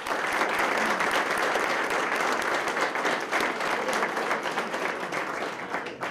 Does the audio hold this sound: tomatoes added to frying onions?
no